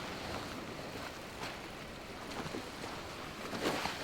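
Water splashing against a sailing boat's hull in the game Sailwind, soft rolling swishes and low wash rising and falling over faint wind noise, quiet and continuous with no voices.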